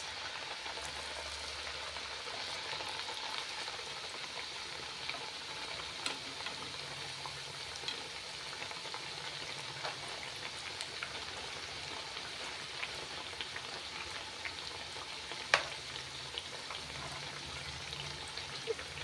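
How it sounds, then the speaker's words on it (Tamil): Thattai rice crackers with peanut, garlic and ginger sizzle steadily in hot oil over medium heat, a continuous fine crackle and bubbling with a few sharper pops, moderately close and alone. "ஒரு சைடு நல்லா லைட்டாக பொரிஞ்ச உடனே இப்படி மாற்றி போட்டுக்கோங்க"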